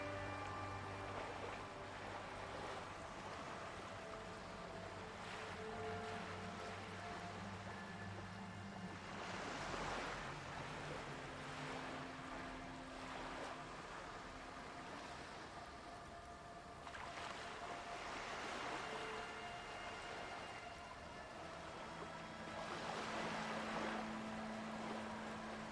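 Ocean waves wash in slow, soft surges in the video game Disco Elysium, faint and distant swells rising and falling over a low ambient backdrop with no talking.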